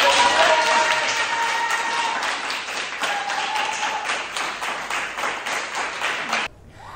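A small group claps for a presenter at a business gathering in Mauritius: brisk, close applause with individual claps distinct, fading slightly before cutting off abruptly near the end.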